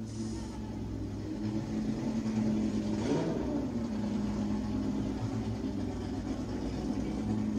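Porsche 997 GT+ rally car at the start of a stage at the Rallye Vins Mâcon, its engine running steadily at close range with a brief rise in revs early on.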